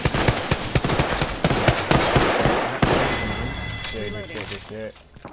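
Rapid gunfire in the shooter game Apex Legends, loud bursts of automatic shots and thuds close by, with a voice talking over the later part.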